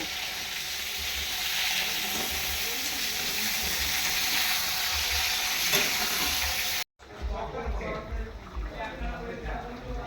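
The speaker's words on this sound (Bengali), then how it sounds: "চিকেন তো দেখি টকবক করে ফুটছে" Chicken curry bubbles and sizzles in the pot with a steady frying hiss and stirring noises, briefly cut off near the end before resuming, while voices talk nearby.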